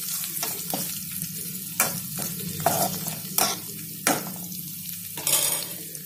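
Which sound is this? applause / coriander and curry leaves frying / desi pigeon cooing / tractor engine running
coriander and curry leaves frying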